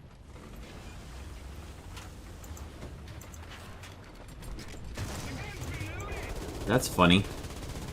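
Tank machine gun fire in War Thunder from a Panzer IV/70(A), rattling in bursts amid mechanical creaks, growing louder toward the end while someone speaks briefly.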